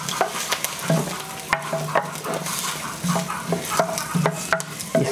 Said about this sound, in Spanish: ya le voy a poner la cebolla con el ajo.